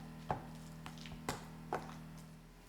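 Yuca cookie dough with coconut milk is worked in a bowl, with three soft, spaced thumps of the mixing utensil over a low steady hum.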